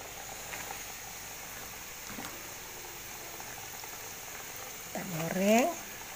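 Chicken pieces frying in a generous amount of oil give a steady, close sizzle and bubbling that runs throughout, with a person speaking briefly near the end.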